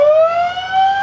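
Loud, continuous electronic siren on a 2003 Ford E-450 ambulance, sounded in rapid yelp mode, a steady warbling wail running throughout with no talk.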